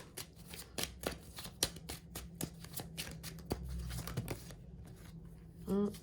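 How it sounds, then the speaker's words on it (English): A deck of tarot or oracle cards being shuffled by hand, quick crisp riffling bursts and flicks repeating close to the mic at a quiet level, ending with a short louder rustle. "And we're going to shuffle the cards"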